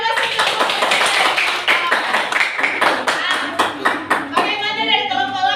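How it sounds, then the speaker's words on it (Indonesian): A group of students in a classroom claps together in loud, steady applause that continues for several seconds before tapering off, with voices mixed in. "Oke, kita kasih aplaus."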